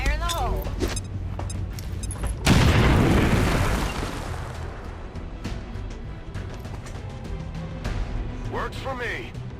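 A loud explosive detonation in X-COM during Operation Gatecrasher, a sudden heavy boom with a roaring blast that slowly fades over several seconds, amid scattered shots and nearby talking voices.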